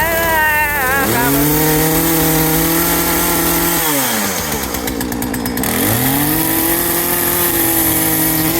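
A gasoline chainsaw fitted to a tomahawk runs close and loud, its engine pitch climbing, dipping and rising again as the throttle is worked, with a rough buzzing roar throughout.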